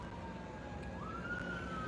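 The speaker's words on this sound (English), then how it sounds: "Let's see, we got some sirens." An ambulance siren wails faintly in the distance, a thin, steady tone that bends upward partway through and sits over a low background rumble.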